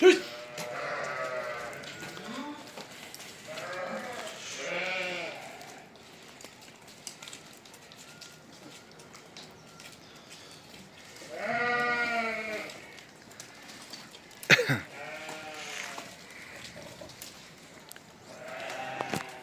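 Honamlı goats bleat intermittently nearby, a few wavering calls spread across the stretch with quieter gaps and faint rustling between.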